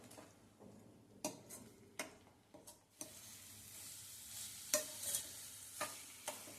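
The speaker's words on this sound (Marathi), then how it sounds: "हे छान अगदी तेल सुटेपर्यंत म्हणजे 10 मिनिटं तरी आपण हे परतून घेणार आहोत" Coriander, cumin, ginger and coconut being sautéed in oil in a home kitchen, with a soft, close sizzle and a few sharp taps and scrapes of a spoon against the pan.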